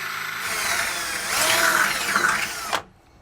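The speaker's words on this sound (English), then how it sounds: "It's going to make an even more of a hole so I can start my pilot hole." A power drill bores a pilot hole in a truck bed, whining steadily and rising in pitch as it bites through, then cutting off abruptly near the end; close and loud with no talking.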